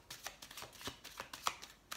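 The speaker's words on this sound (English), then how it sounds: "not one card came out during this shuffle" A deck of tarot cards being shuffled by hand: a run of quick, close riffling bursts and soft slaps, each lasting a fraction of a second, at moderate volume with no talking.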